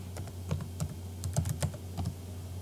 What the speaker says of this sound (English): you have to type in your username, and you have to type in your password